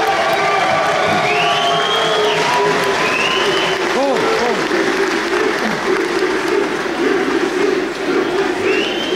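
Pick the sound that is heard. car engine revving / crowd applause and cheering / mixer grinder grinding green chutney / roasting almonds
crowd applause and cheering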